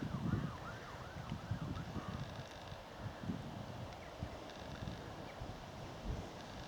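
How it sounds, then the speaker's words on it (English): A northeasterly wind picks up across an exposed path on the Icknield Way between Royston and Great Chesterford, a steady gusty rumble buffeting the microphone, with a faint distant wailing siren early on. "You might be able to hear the wind picking up now."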